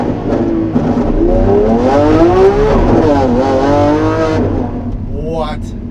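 A Lamborghini Aventador SVJ engine revs hard and loud at an airport, a steady roaring drone with rising and falling pitch sweeps, close by, fading at the end as a voice briefly cuts in.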